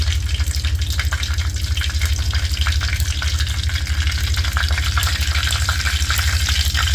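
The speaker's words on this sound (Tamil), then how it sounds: "தேவையான அளவுக்கு கடுகு, அது பொட்டி வரவும்" Mustard seeds spluttering in hot oil while tempering Kerala-style avial, with rapid irregular crackles and pops close by over a low steady hum, no talking.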